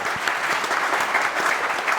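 Audience applause at a talk on digital transformation with VMware and Austin Community College, a steady dense patter of clapping at moderate loudness that holds throughout without pause.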